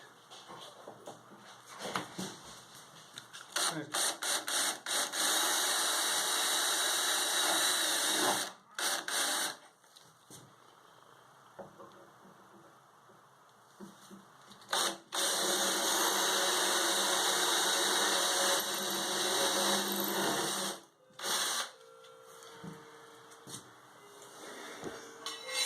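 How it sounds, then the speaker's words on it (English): A power drill with a cement bit bores into concrete in long, loud grinding runs, stopping and restarting several times with quiet pauses between. "And I'm using a cement drill bit."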